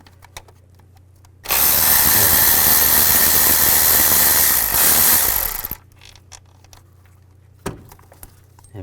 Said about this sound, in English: Now we're going to take the nuts and bolts out for the intake. Use a 10mm socket.